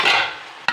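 Over a soft sizzle of frying homegrown leafy greens, a metal lid clanks down once onto the frying pan, short and close at the very end.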